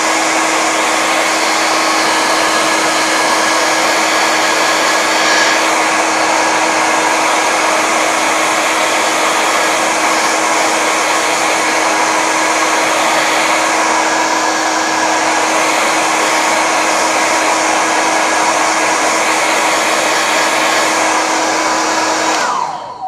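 A hair dryer blows steadily over a watercolour painting of a Norfolk church, a loud, close, unbroken whirring roar with a fixed motor whine that runs for over twenty seconds before clicking off at the end, with no talking.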